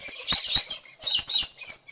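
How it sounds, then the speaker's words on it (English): A cockatoo gives a series of harsh, shrill squawks in irregular bursts, close and fairly loud, with brief gaps between calls and no talking. "Cockatoo."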